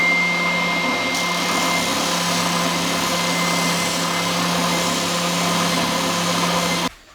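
A spindle sander runs with a steady loud motor drone and whine while shaping a guitar control cavity template, holding constant throughout and cutting off abruptly at the end.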